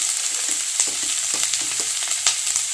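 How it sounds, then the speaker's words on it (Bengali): Curry leaves, chopped green chili and onion frying together for semolina upma, a close, continuous sizzle broken by quick, repeated stirring scrapes against the pan. "আমি একটু ভালো করে ভেজে নেবো"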